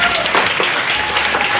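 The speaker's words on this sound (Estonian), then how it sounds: "Teeme lärmi, teeme aplaus" An audience at a comedy dating show breaks into brisk, loud clapping and cheering, a dense wash of hands filling the short moment.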